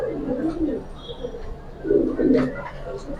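Silver pigeons at a market coo in low, rolling bursts, one early and a fuller, louder run near the end, with a faint murmur of voices underneath.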